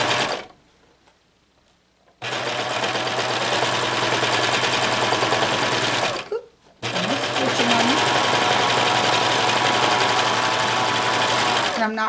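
A sewing machine running steadily as it sews a wave stitch on an armchair sewing caddy, a loud continuous mechanical whir that stops briefly twice, with low talk under it.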